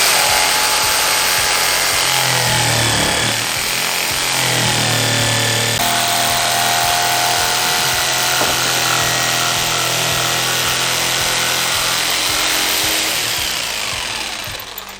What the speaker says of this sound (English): We got our jigsaw out. Let's cut this thing out.